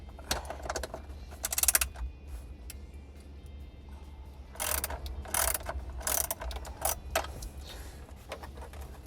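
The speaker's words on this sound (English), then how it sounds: "I have a 10 millimeter socket right here, so let's get this sucker dropped." Ratchet with a 10 mm socket working steering column bolts on a 1985 Chrysler wagon, giving close, crisp clicking bursts: a short run early, then several quick rapid runs later, separated by quieter gaps.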